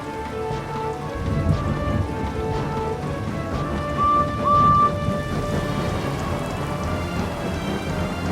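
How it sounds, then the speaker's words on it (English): Steady rain falls on the island of Sodor in a dense, continuous hiss of drops, with low rumbling underneath and a short high tone partway through. "It had been raining on the island of Sodor."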